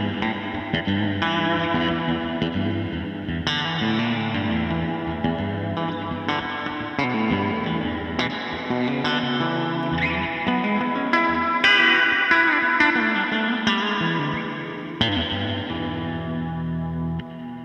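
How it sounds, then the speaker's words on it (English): Dense, washy guitar-like music drenched in a springy, splashy reverb from the Waves Magma Springs plugin that keeps ringing behind every note, loud and continuous throughout. "7 classic spring reverb models for your DAW."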